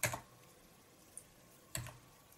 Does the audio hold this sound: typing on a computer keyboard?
yes